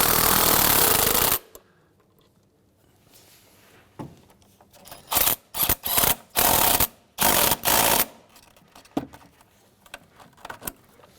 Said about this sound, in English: So now we can go ahead and tighten down our hose clamps on our intake.